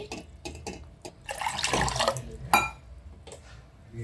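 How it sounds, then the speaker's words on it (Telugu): Two cups of water poured from a measuring cup into a pot to be boiled for rice flour, giving a short splashing gush after a few light drips and taps, close and fairly soft. "ఇందులో 2 కప్ ఆఫ్ వాటర్ని యాడ్ చేసుకోవాలి."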